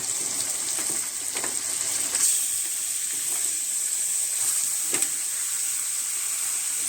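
Meat going into a hot pan at a home kitchen, a steady close hissing sizzle throughout with a few soft stirring clicks and no talk.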